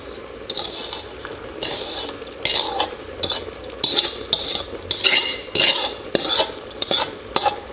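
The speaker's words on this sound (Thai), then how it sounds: "แล้วก็คนให้เข้ากันครับ" A spoon stirs palo spice powder and salt through a pan for Thai-style stewed eggs, making repeated scraping and clinking strokes against the metal, close and fairly loud, with a faint sizzle underneath.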